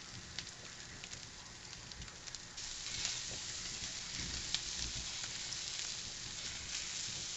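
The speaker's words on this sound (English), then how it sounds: "I'm putting this in a hot cast iron griddle, and I'm just going to let them toast up." Blue corn tamales toast on a hot cast iron griddle with a steady, close sizzle and crackle that thickens slightly midway, continuing alone without any talk.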